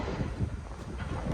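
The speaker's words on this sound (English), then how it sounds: "It's a bit windy today." Wind blows outdoors at Suffolk Car Body Repairs, a body shop, buffeting the microphone with a low, rumbling gusty roar that swells and dips steadily throughout, with no voices.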